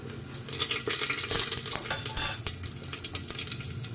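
About four spoons of ghee heating with a spoonful of cumin seeds for a pressure-cooker veg biryani, giving a busy, even crackle and sizzle over the whole stretch, plus light stirring scrapes and no voices.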